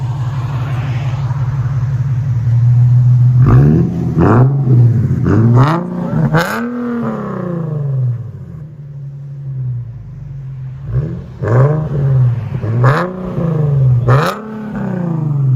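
A loud straight-piped Infiniti G37 3.7L V6 exhaust idles with a raw rumble, then revs sharply several times in quick blips, settling back between bursts.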